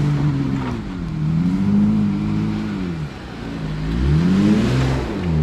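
A Jeep Gladiator engine in four-high while snow wheeling, steadily droning and rising and falling in pitch as it revs through shift points, close and fairly loud with no talking.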